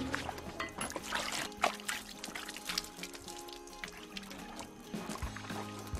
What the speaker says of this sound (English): Make sure to rinse the machine thoroughly with clean water before filling it with the ripe cherries.